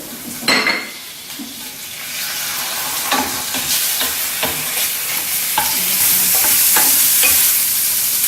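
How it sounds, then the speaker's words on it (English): Chicken livers sizzle steadily in oil in a hot frying pan while a utensil stirs and scrapes, with occasional metallic clinks against the pan. "There's the oil heating up in the frying pan, and I'll pop the chicken livers in."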